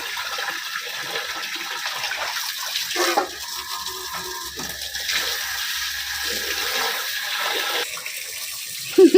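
Water runs steadily from a tap as someone washes things at home, a constant rushing splash with faint clinks and a brief louder clatter near the end.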